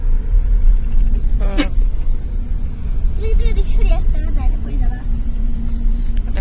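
An air-conditioned car drives along a rainy Dhaka road and climbs onto a flyover, its engine and road noise a steady low rumble beneath nearby voices.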